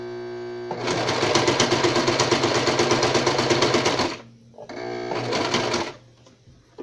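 A sewing machine straight-stitches along the edge of a fabric bracelet, running steadily for about three seconds, pausing briefly, then running again for a shorter stretch, close and clear.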